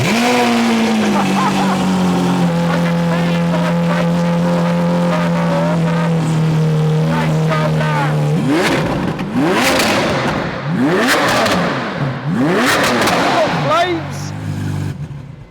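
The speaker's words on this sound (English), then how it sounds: "So let's hear the cold start on the V12 with this aftermarket." Lamborghini Aventador SV V12 with an aftermarket racing exhaust on a cold start, a loud sustained idle drone followed by sharp rising revs and crackling bursts, close and dominating.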